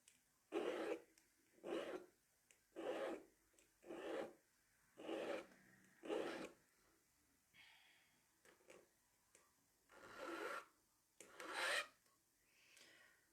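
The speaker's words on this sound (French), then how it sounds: "il faut faire des plats avec une lime plate" A flat hand file rasps facets onto a ring in a jeweller's workshop, about ten separate rhythmic strokes roughly a second apart, close and clear with short quiet gaps between them.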